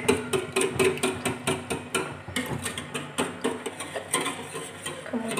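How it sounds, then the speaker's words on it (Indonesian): Coconut milk being stirred into a pumpkin pudding mixture in a pot, giving a steady run of rhythmic scraping and clinking strokes of utensil against metal, close and fairly loud, with no talking. "Kemudian kita masukkan santannya, terus kita aduk"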